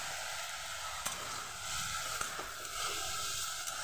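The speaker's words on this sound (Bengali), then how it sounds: "পেঁয়াজটা একবারেই লাল করে ভাজবো না" Onions fry in oil with a soft, even sizzle and faint crackle, broken by a few light stirring clicks, quiet and close.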